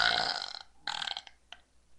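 Someone gives a short burp, then a second quick one, followed by a faint tail; close, mid-loud and otherwise quiet.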